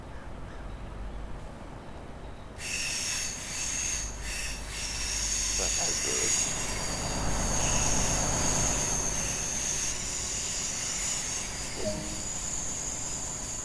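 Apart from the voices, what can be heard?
612 train running in Train Sim World 2 video game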